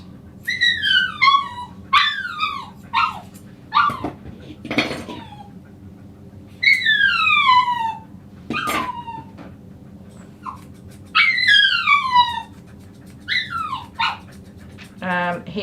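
A brown toy poodle whimpers and yelps in repeated high, falling cries, close by, with short gaps between bursts and a low hum of a grooming room underneath.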